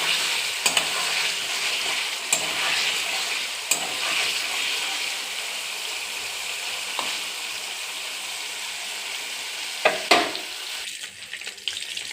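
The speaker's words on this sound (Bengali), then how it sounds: "পনিরগুলো দিয়ে দিয়েছি, হালকা করে ভেজে নেবো, বেশি ভাজবো না, লালও করব না, সামান্য একটু তেলে নাড়িয়ে নেব।" Paneer pieces frying lightly in a little oil while being stirred, a steady soft sizzle throughout with occasional sharp clicks of a utensil against the pan, and a brief louder stir near the end.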